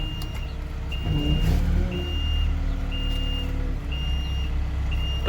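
A truck arrives for loading, its reversing alarm sounding regular high beeps about once a second over a steady diesel engine rumble, with a brief clatter midway.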